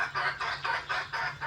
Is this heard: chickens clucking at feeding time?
yes